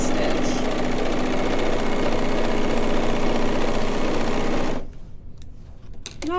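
A Bernette B44 sewing machine runs a continuous stitch, a loud, close, even mechanical hum lasting nearly five seconds before stopping abruptly, followed by a few faint handling clicks.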